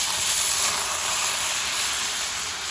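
Marinated carne asada meat sizzles loudly in a hot pan over a campfire, a steady, dense hiss that barely fades over a few seconds with no talking.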